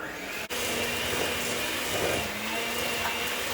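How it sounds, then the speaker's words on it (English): Steady droning of a lawn mower cutting grass outside, worked by yard workers on grass-cutting day, a continuous mid-level engine hum heard from indoors without a break, with no talk over it. "You have to excuse my yard guys out there. It's grass cutting day."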